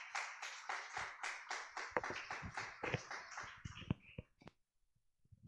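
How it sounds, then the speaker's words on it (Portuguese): Congregation applause at an evening revival church service, a run of loud rhythmic clapping bursts that thins into scattered claps and falls quiet. "Receba o servo de Deus com as palmas bem fortes para Jesus."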